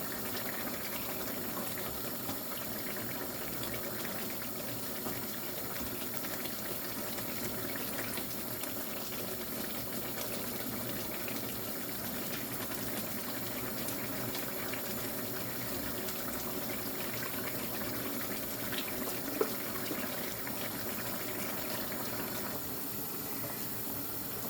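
Pot of pasta boiling in water on the stove, a steady bubbling and rumbling wash that holds constant and fairly close with no talking.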